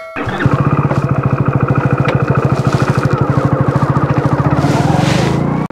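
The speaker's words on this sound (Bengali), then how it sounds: "বাইক নিয়ে চলা শুরু করেছি" A motorcycle being ridden near the India-Bangladesh border in West Bengal, its engine a loud, steady, rapid putter held close and constant, with no voices.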